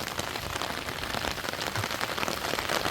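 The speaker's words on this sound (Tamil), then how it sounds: "மழை பெஞ்சோண்டு தான் இருக்குது பாருங்க" Steady rain falls close by in a village during the rainy season, a dense, even patter on surfaces with no voices heard.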